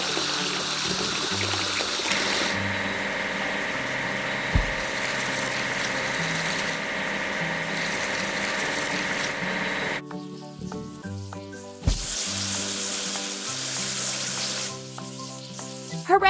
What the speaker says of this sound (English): We need to wash the track laying machine.